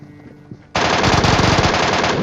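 Rapid, loud automatic gunfire bursts out in a battle royale video game firefight after a quieter stretch, sustained dense rattling shots continuing to the end with no talking.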